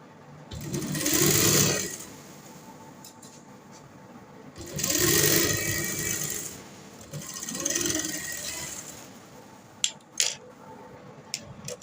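A sewing machine stitches a round V neck in three separate bursts of close, rapid mechanical chatter, with quiet handling and a few sharp clicks in between.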